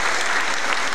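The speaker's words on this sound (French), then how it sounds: "Et je vous demande de l'acclamer très très fort." A ceremony audience applauds a top-ranking student with loud, dense, steady clapping that fills the whole moment, no voices standing out above it.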